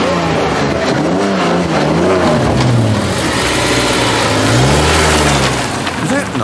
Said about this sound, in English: Odd rattling sound.